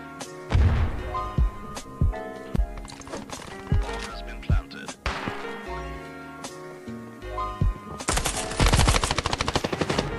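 Rifle gunshots, a few loud sharp cracks spaced through a busy mix of game-like music and effects, ending in a dense rapid burst near the close; no talk over it.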